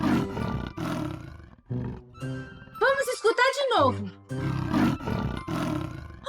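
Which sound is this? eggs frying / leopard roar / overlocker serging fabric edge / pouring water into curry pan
leopard roar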